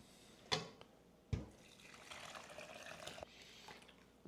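Homemade vegetable stock strained into jars: two sharp clinks and a splash, then a steady soft pour and trickle of liquid, fairly quiet and close, with no talking.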